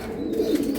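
A Girbaz racing pigeon gives a short, low, throaty coo up close, a single soft rolling call lasting under a second.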